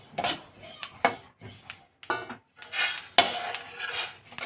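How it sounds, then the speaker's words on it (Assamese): Freshly roasted sesame seeds tipped and scraped onto a bronze plate, a run of short metallic clinks and scrapes with brief pauses, close and fairly loud, no talking. "তিলখিনি এখন কাঁহীত নমাই লম"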